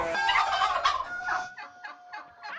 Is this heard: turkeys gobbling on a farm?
yes